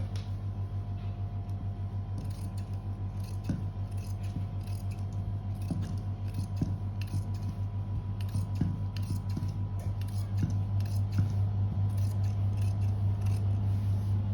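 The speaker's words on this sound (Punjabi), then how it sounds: "ਇਹਦੇ ਆ ਜੁਆਇੰਟ ਸਾਈਡ ਕੱਪੜਾ ਹੈਗਾ ਇਹਨੂੰ ਵੀ ਆਪਾਂ ਕੱਟ ਕਰ ਲਵਾਂਗੇ" Scissors snipping through fabric while cutting a straight salwar, a series of soft close clicks and slicing strokes over a steady low hum in a quiet room.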